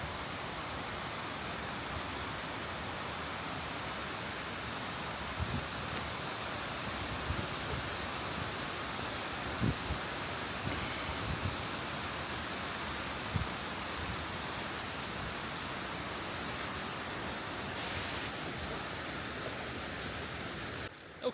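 Yudaki waterfall cascading down rock in the Japanese mountains gives a constant, even rush of falling water, heard from a viewing platform with no talking.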